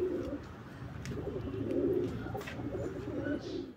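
Pigeons at a high-flying loft in Seoni coo softly and repeatedly, low rolling calls overlapping in a gentle close chorus.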